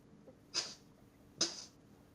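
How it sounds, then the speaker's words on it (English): Two short sneezes about a second apart, each a sharp, breathy burst, close and fairly quiet against a faint background, with no talking. "Just a little bit sneezing, just sneezing"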